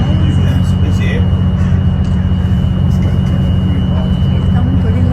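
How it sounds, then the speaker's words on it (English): A low-flying airplane passes overhead near Frankfurt, a loud, steady broadband roar that fills the whole clip and never fades. "Oh, this one's coming right over."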